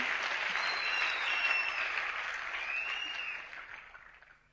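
Applause from an audience at a motivational talk, a dense, even wash of many hands clapping that holds steady, then fades out over the last second.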